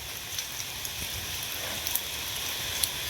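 Steady patter of rain falling on a flooding house, a soft continuous hiss with a few sharper drops standing out here and there.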